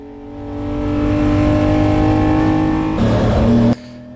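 Austin-Healey 3000 race car engine at Snetterton, a loud, close, steady drone that builds and holds high revs, shifts tone near the end, then cuts off abruptly, with no talking.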